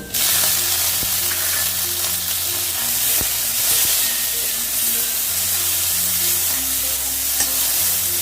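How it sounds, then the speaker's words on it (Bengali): Onions and tomato frying in a pan on a gas stove for tangra fish curry, a loud continuous sizzle and hiss with occasional stirring clicks, steady throughout with no talk. "পেঁয়াজটা আমি দু তিন মিনিটের মতন ভেজে নিলাম আর ভাজবো না এবার এর মধ্যে আমি টমেটোটাকে দিয়ে দেবো"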